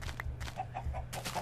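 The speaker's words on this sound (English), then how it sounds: "Oh, look at all the chickens." Minecraft chickens clucking in short repeated bursts, several soft clucks in quick succession at a fairly low level, over a faint steady background hum.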